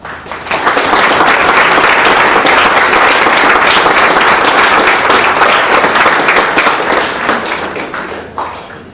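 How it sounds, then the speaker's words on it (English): Loud, sustained applause from an audience at a high school senior sports banquet, dense clapping that builds quickly and holds steady for several seconds before tapering slightly at the end. "you deserve a round of applause"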